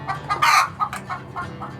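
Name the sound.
chickens and laying hens clucking on a farm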